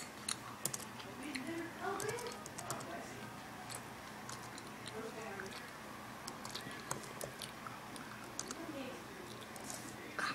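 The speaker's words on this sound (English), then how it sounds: "Sorry, she's typing." Fingers tap out a word on a computer keyboard in a quiet room, a light scatter of uneven clicks and keystrokes, faint and close, with soft background noise and no one talking.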